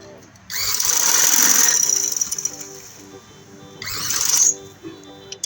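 A sewing machine stitching through the middle of cut fabric pieces for a maxi dress, two bursts of fast whirring run close by, the first longer than the second, with a voice talking quietly between them.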